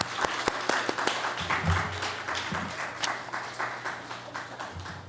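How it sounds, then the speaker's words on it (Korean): A church congregation claps in welcome during a prayer gathering, with sustained clapping from a crowd and a few sharp nearby claps standing out, moderately loud, over a low room hum. "영광의 박수로 대표님을 축복하며 박수로 환영하겠습니다"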